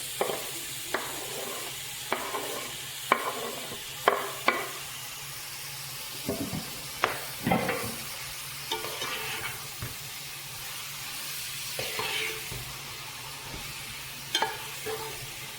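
Chopped tomato and masala sautéing in an oily pan for a vegetable dum biryani, a soft continuous sizzle broken by repeated scraping strokes of a stirring spoon, close and steady, no voices.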